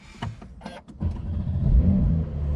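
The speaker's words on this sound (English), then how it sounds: "Now let's start the engine" A Porsche 992 Carrera 4S starts up: the starter cranks briefly, then the engine catches with a loud, close rumble and settles into a steady idle.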